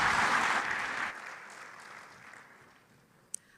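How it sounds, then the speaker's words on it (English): Applause for panelists at a closing ceremony; a crowd claps densely for about a second, then it thins and fades away, with one sharp click near the end. "Please, once again, a round of applause for them."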